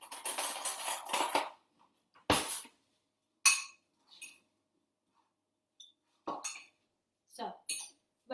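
Clinking and scraping of utensils against a bowl as taco salad dressed with olive oil and a pinch of salt is tossed, in short irregular bursts separated by quiet pauses, close and fairly soft.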